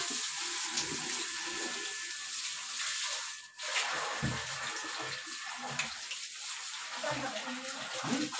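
Tap water runs steadily into a container in a home kitchen, a continuous close rushing and splashing that holds for the whole stretch with a brief dip midway.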